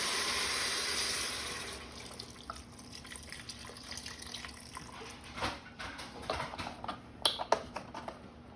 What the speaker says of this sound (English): I'll go ahead and start adding my broth.